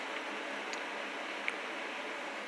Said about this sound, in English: Hear that furnace running?